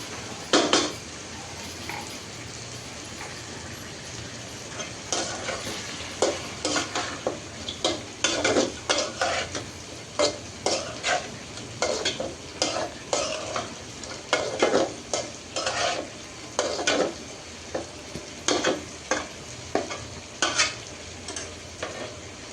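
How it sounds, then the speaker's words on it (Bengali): Gourd peel, okra and potato stir-frying with turmeric in a pan, a steady sizzle under repeated sharp scrapes and clinks of a metal spatula against the pan, close up and without speech. "আর লাউয়ের খোসা ভাজিটাও আমি একবারে বাগার দিয়ে বসাই দিচ্ছি"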